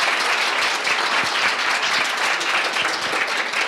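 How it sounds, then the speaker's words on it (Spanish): Sustained audience applause at a journalism contest award ceremony, a dense, steady wash of many hands clapping that fills the room without a break. "Por favor, de nuevo un aplauso para Sidney y al Tompkins."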